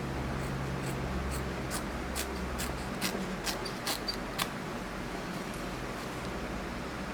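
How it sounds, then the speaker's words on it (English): Scissors snip through appliqué fabric held taut in an embroidery hoop in a quick run of crisp, close cuts, then fade into quiet room noise with no talking. "the scissors just glide straight through"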